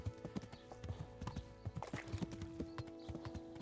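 A warhorse gallops in Kingdom Come, its hooves pounding in quick, rhythmic clip-clops close by, with tack jingling and a low, steady tone beneath.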